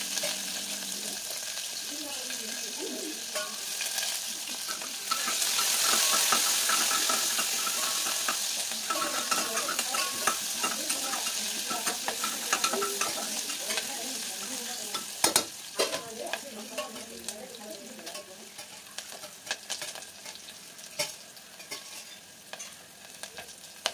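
Onions fry and sizzle in a pan for veg pulao, with a spoon stirring and scraping at intervals; the sizzle swells early on, then continues steadily with scattered clinks, fairly quiet and close.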